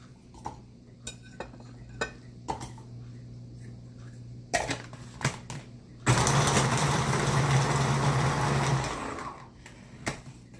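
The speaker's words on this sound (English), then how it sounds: "Now, I'm going to shred up my celery." Food processor shredding celery for a chicken salad, a dense whirring grind lasting about three seconds, preceded by scattered clinks and knocks of handling the bowl.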